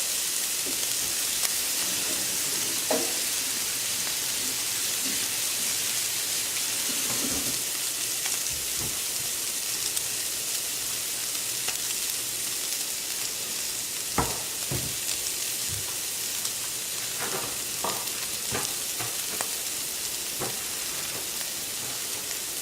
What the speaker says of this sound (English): Low heat pan, sit in there, let that sizzle.